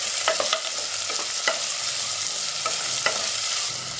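Small shallots and big onions frying in hot oil for a roadside-style Tamil salna: a loud, steady sizzle close up, with occasional scraping stirs of a spoon through the pan.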